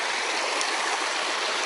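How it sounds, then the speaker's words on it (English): Water rushes steadily through the white travertine terrace pools at Pamukkale in Turkey, a close, even hiss of flowing water with no voices over it. "the water flow"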